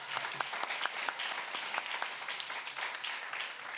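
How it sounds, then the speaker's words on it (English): Audience at a Leeward Islands debating competition breaks into sustained, dense applause, steady and fairly loud for several seconds with no speech over it. "Let's give her a round of applause."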